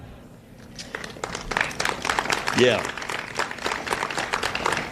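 An audience at an outdoor groundbreaking ceremony in Perth Amboy breaks into applause that builds and holds in a dense patter of claps, with a brief call from one person in the crowd.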